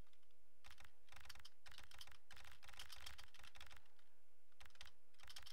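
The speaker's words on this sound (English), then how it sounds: "nice sounds for the keyboard sounds" Keyboard typing sounds in the video game MHRD, bursts of quick crisp keystrokes in irregular runs with short pauses between, close and clear, no talking.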